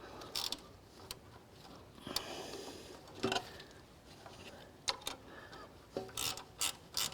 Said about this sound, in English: Then I'll need to tighten up the rear bolt on the adjuster.